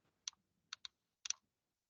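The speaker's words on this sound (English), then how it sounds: "I think Barbara's typing a comment." A few quiet, crisp keyboard taps come in three short bursts separated by brief pauses, close by, with near silence around them.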